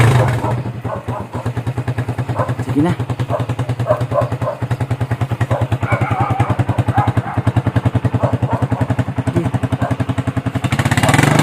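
A motorcycle's engine thumps steadily at close range for the whole stretch, with a rapid rhythmic pulsing and occasional clatter, while voices talk over it.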